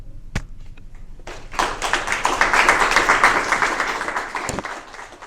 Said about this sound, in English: give one more round of applause to these young people for sharing their voices with us